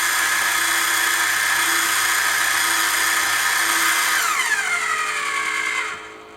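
A Warco WM180 bench lathe hums with a high, steady motor whine on its variable-speed feed motor, loud and close, then pitches down as it slows and winds toward a stop near the end.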